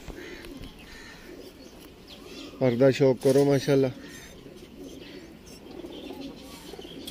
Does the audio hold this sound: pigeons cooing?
yes